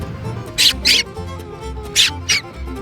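Shoes squeak in two quick pairs of sharp, high, chirping bursts, made to imitate dolphins by the water, over a low background hum.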